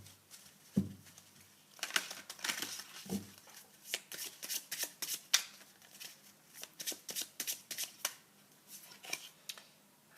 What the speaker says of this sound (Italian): Stanno cadendo le carte.